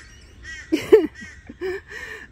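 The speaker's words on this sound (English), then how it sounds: "Will you be quiet, please, bird?" A pet bird calls noisily indoors, a few loud, harsh squawks and chirps in short bursts with brief pauses between them, close to the microphone.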